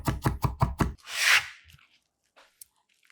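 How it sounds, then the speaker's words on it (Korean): A knife coarsely chops three whole garlic cloves on a cutting board with five quick, sharp, evenly spaced strokes, then a scraping sweep and a few faint taps, close and with no talking. "통마늘 3개는 살짝 굵게 다져서 준비해주고요"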